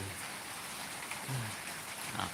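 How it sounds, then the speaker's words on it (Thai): Steady rain falls outdoors, a continuous, even hiss of drops at moderate level that holds for the whole stretch with no voices. "ฝนก็ยังไม่หยุดตกนะฮะ"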